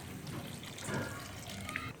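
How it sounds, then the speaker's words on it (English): Water pouring and splashing into a pot of egg curry, a continuous liquid gurgle swelling slightly midway, close by and fairly quiet. "Add in required amount of water."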